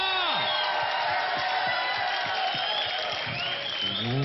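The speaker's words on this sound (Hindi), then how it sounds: "जरा जोरदार सानू साहब के लिए तालियां" Audience applause and cheering on the India's Got Talent stage, a dense, loud, continuous roar of clapping and whoops with tonal sound running through it, lasting the whole stretch.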